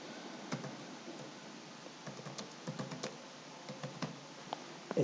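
Typing on a computer keyboard, a steady patter of light, close key clicks with occasional louder taps over a faint background hiss, no voices.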